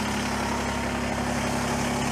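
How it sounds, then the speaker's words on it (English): A Kubota BX23S tractor with backhoe runs steadily close by, its engine a loud, constant rumbling drone with no breaks. "now we're going to go ahead and start the tractor up"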